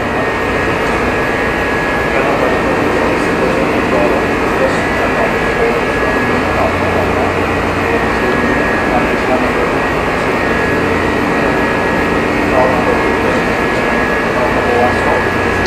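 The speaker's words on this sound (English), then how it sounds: "this is the air conditioner of this engine control room" A loud, steady mechanical hum and whir of a ship's engine control room air conditioner fills the room, constant and unbroken, with a faint high tone riding on top.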